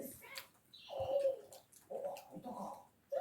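A bird coos softly in a few low, throaty phrases, with faint background noise and occasional soft rustling.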